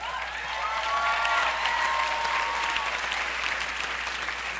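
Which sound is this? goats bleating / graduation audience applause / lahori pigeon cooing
graduation audience applause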